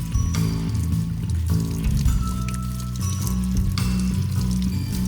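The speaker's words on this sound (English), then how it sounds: "Wash the mushrooms clean in a sieve and drain away the water." Running water from a kitchen tap washes mushrooms held in a sieve, a steady continuous splash and trickle that stays close and fairly loud throughout, with no voices.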